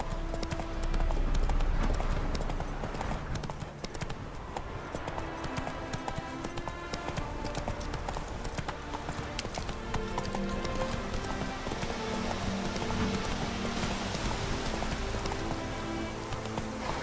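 Roach, the horse in The Witcher 3: Wild Hunt, gallops with rapid, steady hoof clip-clops over a dense game soundscape of music and ambience, continuous throughout.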